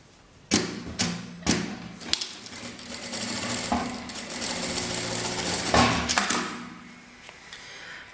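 A sewing machine stitches printed fabric, opening with a few sharp thumps before settling into a steady running whir that ends with a couple of clicks, close and clear.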